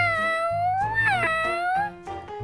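A cartoonish cat meows in the Avatar World video game, a short wavering tonal cry rising and falling twice, close and clear with soft game sounds behind.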